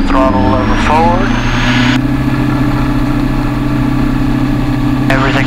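A small training airplane's piston engine hums steadily as the throttle is slowly pushed forward for takeoff, loud and close with a constant drone, while a voice talks over it near the start and end.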